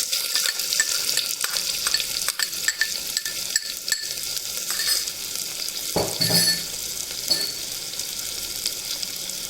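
Onions frying in a pan with cumin and mustard seeds, a loud close sizzle with frequent clinks and scrapes of a spoon stirring against the pan, no voices.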